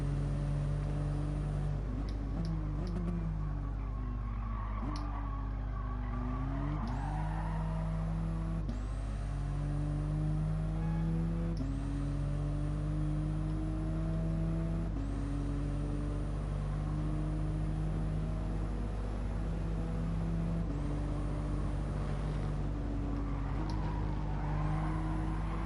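Race car engine in Gran Turismo Sport on the final lap at Mount Panorama, a loud steady whine climbing through the revs, with sharp drops at each gear change repeating every few seconds, up close without talk.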